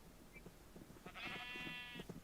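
A Minecraft sheep gives one short bleat, faint and game-like, over a quiet background with soft low taps.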